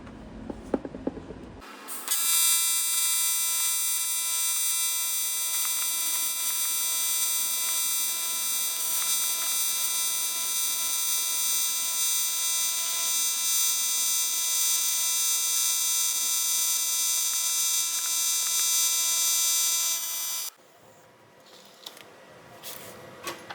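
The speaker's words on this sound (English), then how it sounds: "Weld up that hole in the middle." Welding to close a hole in the middle of a boat's flap scupper: a steady, even buzzing crackle that runs unbroken for about eighteen seconds, with quieter shop noise before and after.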